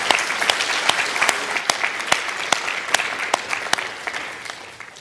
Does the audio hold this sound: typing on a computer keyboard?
no